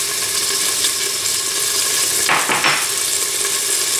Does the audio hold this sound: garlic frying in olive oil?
yes